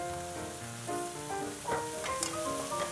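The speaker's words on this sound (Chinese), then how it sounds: "这个时候肉不要炒到全熟，把土豆放下去" Meat and potatoes stir-fry in a pan with a steady sizzle, occasional scraping and louder crackles as they are tossed, heard clearly with no voices.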